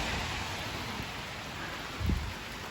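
Steady rain falls outdoors on a spring walk, a soft continuous hiss with a brief low thump partway through, with no talking.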